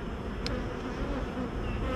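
Honey bees hum densely and continuously at an opened beehive in March, a close, steady buzzing swarm sound with no voices.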